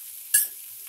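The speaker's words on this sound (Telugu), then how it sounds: "నెక్స్ట్ ఫ్రై అయ్యాక క్యాబేజ్ తురుము వేయండి" Grated cabbage tipped into a hot pan gives a single short burst of bright frying hiss that quickly fades back to a quiet background.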